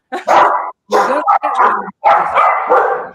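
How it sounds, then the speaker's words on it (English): A dog barks loudly and close several times in short bursts, a few sharp yips followed by a longer run of excited barking. "Whose dog is that?"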